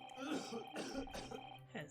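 A game character in The Great Ace Attorney coughs harshly, a man dying of tuberculosis, in a few rough, throaty bursts over about two seconds, close and fairly loud against faint background music.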